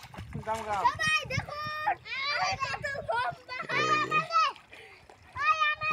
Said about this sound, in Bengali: পানি, গোসল করতেছে সবাই।